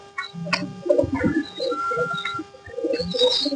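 A newly bought pair of pigeons in a home coop coo in soft, throaty bursts close by, with a few brief chirps mixed in across a few seconds.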